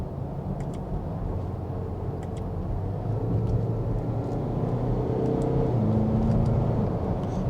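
A car with a paddle-shift gearbox pulls away, its engine a smooth, steady low drone that swells slightly partway through and holds a gentle rising pitch, with no talk over it.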